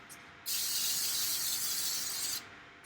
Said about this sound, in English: Gonna coat both of my skillets with some nice canola oil spray per usual.